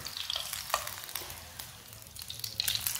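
Laccha paratha fries in oil on a pan, a close, moderately quiet sizzle with scattered crackles and a few light spatula scrapes, rising slightly at the end; no voices.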